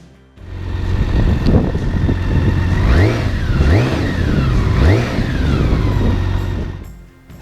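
A 2015 BMW K1600GT motorcycle idles close by, then its engine is revved three times in quick succession, each rev a rising, smooth whine that falls back to idle.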